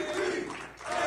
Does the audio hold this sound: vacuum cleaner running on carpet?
no